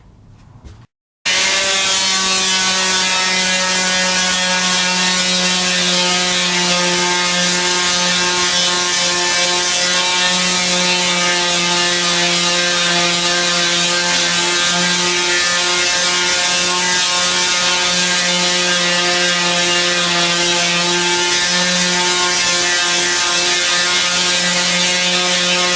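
Steady, loud power sanding on a wooden sign, a continuous machine whine with strong even tones running for nearly the whole stretch after a brief quiet start, with no voices.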